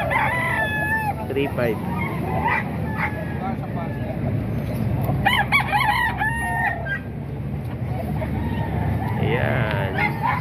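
White Hatch rooster, eleven months old, crowing amid other clucking fowl at a rooster sale, several crows rising over a noisy crowd as someone talks throughout.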